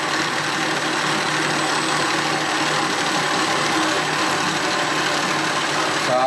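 Electric motor drives a small CVT model at higher power, giving a steady broadband whirring hum that stays level and close throughout with no voices.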